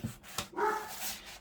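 A dog barks indoors, a few short sharp barks with a brief whining tone, fairly quiet and close, with no talk over it.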